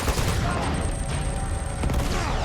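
Gunfire rattles through a firefight in the video game Uncharted: Among Thieves, a loud, dense burst of rapid shots and impacts lasting throughout, with a brief dip near the end.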